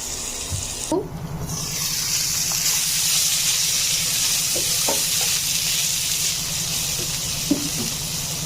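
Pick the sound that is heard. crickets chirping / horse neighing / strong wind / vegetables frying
vegetables frying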